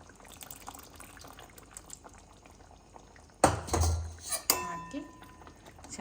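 Drumstick curry with fresh cream and kasuri methi is stirred in a pan, a quiet simmering bubble giving way to a louder burst of scraping and clinking of a spoon against metal, with faint background sounds.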